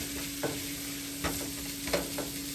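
Bell peppers and onions sauteing in a pan, a soft continuous sizzle with a few distinct stirring scrapes spaced about a second apart, close but fairly quiet, with a faint steady hum underneath.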